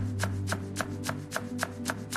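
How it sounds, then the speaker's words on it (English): Knife chopping onions on a board in a home kitchen, a steady rhythm of about nine crisp chops over a couple of seconds, close and distinct with no talking. "I chop onions."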